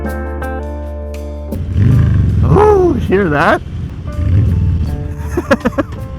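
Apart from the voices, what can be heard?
Harley motorcycle engine with Stage 1 exhaust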